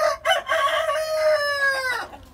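A rooster among desi chickens kept on a rooftop gives one loud, close crow that stretches out and fades, following a couple of short clucks at the start.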